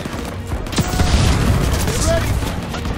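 Sustained gunfire and booming explosions in a World War II battle for Marigny town in Call of Duty WW2, a dense continuous barrage with shouted voices mixed into the combat.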